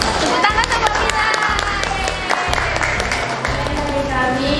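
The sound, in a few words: audience applause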